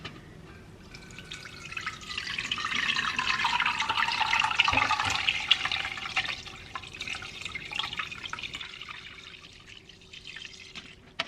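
Bone broth is poured in batches through a mesh strainer into a batter bowl, making a steady splashing stream that swells in the middle and then tapers, heard up close.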